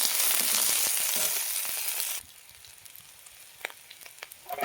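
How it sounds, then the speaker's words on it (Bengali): Onions and chillies frying in a pan, with an older dried red chilli in the same oil. A bright sizzle holds steady for about two seconds and then drops to a faint hiss with a few scraping taps. "পেঁয়াজ মরিচটাকে লাল লাল করে ভেজে নেব"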